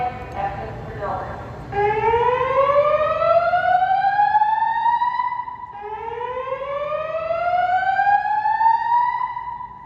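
A building fire alarm siren sounds through classic speaker strobes, with two long, loud electronic wails that each sweep steadily upward in pitch, after a brief burst of rougher alarm tone at the start.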